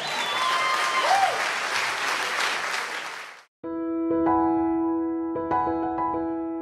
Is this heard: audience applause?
yes